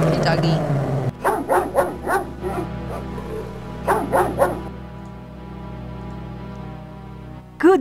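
Dog barking in the video game King's Quest VII: a run of sharp, loud barks and yips in two bursts over a steady game music drone, with a brief voice at the start.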